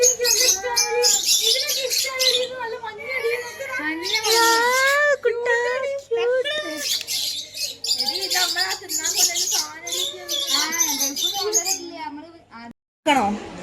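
Birds and pigeons chirp and tweet repeatedly close by, quick rising and falling calls in bursts, with a faint low hum beneath and a soft coo now and then.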